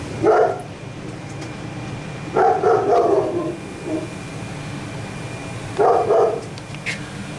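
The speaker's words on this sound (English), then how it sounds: "Pardon my dog barking." A dog barks in three short bursts spaced a few seconds apart, moderately close, with quiet background between them.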